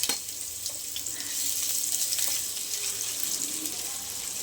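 Chopped green chillies and a large finely cut onion frying in a hot pan, giving a steady, fairly quiet sizzle and hiss with light stirring scrapes throughout.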